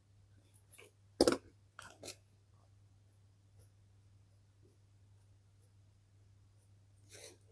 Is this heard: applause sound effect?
no